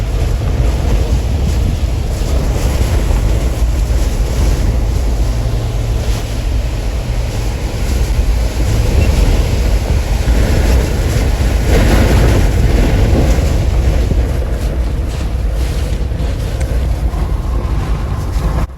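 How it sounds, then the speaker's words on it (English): Strong Hurricane Ida wind roaring and buffeting continuously, loud and unbroken, with a rushing, blasting quality and no voices, in whiteout conditions. "Yeah, that's how windy it is."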